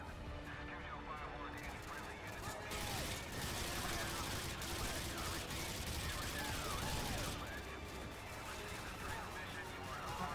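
Dense, rapid gunfire and explosions pour out of a Call of Duty MW2 match, with bursts continuing steadily over a constant level of noise.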